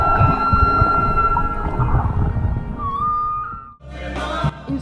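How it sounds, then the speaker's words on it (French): Male humpback-type whale song underwater off Polynesia, a loud sustained moaning cry that slides and wavers, with a rising tonal sweep near the end before a brief break. "Ici, une baleine, son baleineau et un mâle qui chante pour la charmer."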